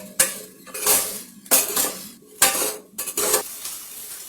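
Chopped carrots and onions stirred in a pan: a spoon scrapes and clanks against the metal in four loud, rhythmic strokes, with a soft sizzle between them and no talk.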